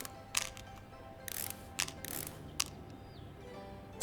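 Screws being removed in Electrician Simulator: quiet clicking, ratcheting mechanical sounds in short separate bursts, several brief clicks and whirs spaced irregularly over a faint background hum.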